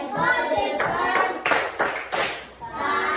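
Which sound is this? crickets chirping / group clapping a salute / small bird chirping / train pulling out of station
group clapping a salute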